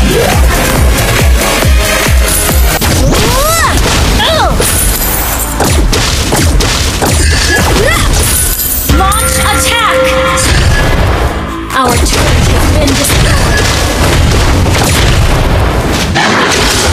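Explosions and booms as a turret is destroyed in Mobile Legends, a dense, loud run of blasts and impacts layered with battle effects and music that barely lets up, with one brief dip near the end.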